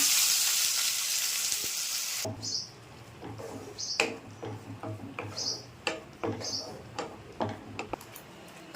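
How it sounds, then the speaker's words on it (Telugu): Ground spice paste hits hot oil for a fish fry curry, giving a loud, close sizzling burst for about two seconds that drops to a softer crackle with scattered ticks and pops. "ఇప్పుడు మనం దాకా మిక్సీ పట్టుకున్న ఈ మిశ్రమాన్ని వేసుకుందాం"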